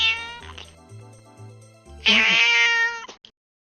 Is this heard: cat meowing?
yes